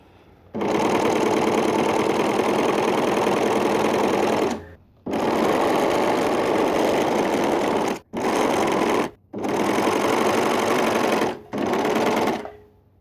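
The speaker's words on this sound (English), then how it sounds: "When you're sewing with an overlocker, you need to keep sewing until you have given yourself a couple of inches of chain before you cut that off." An overlocker sews and trims a trouser seam, its loud, close mechanical whirr running in long steady stretches broken by a few brief stops.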